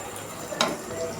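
Potatoes and eggplant fry in a pan with spice paste, a soft continuous sizzle with a sharp stirring scrape in the middle, quiet and close.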